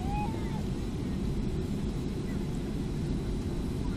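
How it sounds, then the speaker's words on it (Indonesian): Steady low engine rumble fills the cabin of a Sriwijaya Air Boeing 737 readying for takeoff at Sultan Iskandar Muda airport in Aceh, a constant close roar with a faint whine and no break. "Inilah detik-detik saat lepas landas."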